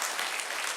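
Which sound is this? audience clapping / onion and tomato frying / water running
audience clapping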